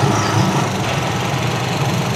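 A Rusi Chariot 175 motorcycle engine runs at a steady, rough idle, a close, continuous mechanical drone with no voices.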